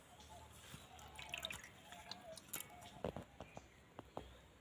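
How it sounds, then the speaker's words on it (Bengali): Kulekhara leaves being washed in water, with quiet drips, splashes and trickles that grow into sharper splashing toward the end, heard close and fairly faint. "খুব ভালো করে ধুয়ে নিচ্ছি।"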